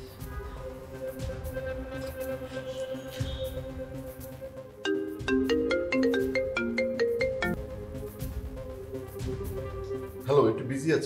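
A phone ringtone plays a bright, repeating melodic tune that grows louder partway through and then cuts off abruptly near the end, with low background sound around it.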